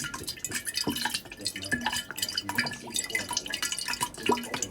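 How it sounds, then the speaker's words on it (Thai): Water poured into a fruit ferment mixture, a steady close trickle and splashing with scattered drips and light clinks against the container, moderately quiet and continuous throughout. "เครื่องนึงก็ใส่น้ำลงไปเนาะ"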